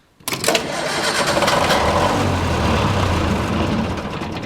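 An Onan MEP-003A 10kW military diesel generator cranks and catches after its glow plugs preheat, an abrupt start that settles into a loud, steady, close diesel running rumble with no talking.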